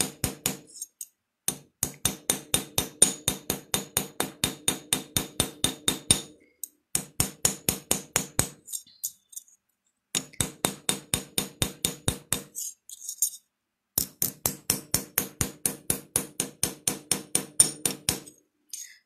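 Holiday ornament design being worked by hand with a hammer, a steady run of quick sharp metallic taps in long regular bursts separated by brief pauses, close and fairly quiet.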